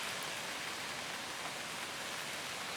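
Steady rain drums on a fishing umbrella at a carp-fishing swim, a dense, even hiss with no breaks across the short stretch.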